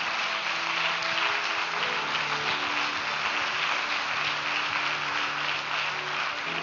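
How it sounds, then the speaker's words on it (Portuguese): A church congregation at a Baptist Sunday evening service applauds loudly and steadily, with dense continuous clapping and faint music underneath. "Pode aplaudir o Senhor, meu irmão."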